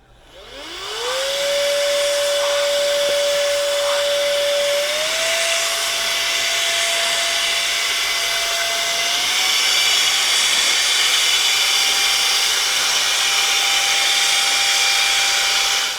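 An electric compressed-air duster, a 110000 RPM keyboard cleaner, spins up to a loud, steady high-pitched whine with a rushing airflow hiss, holding on for about fifteen seconds and stepping up slightly in pitch along the way.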